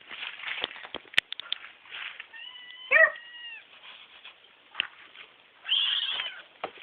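Cats at feeding time meow near the listener, one drawn-out meow in the middle and a shorter one near the end, amid handling and shuffling noises.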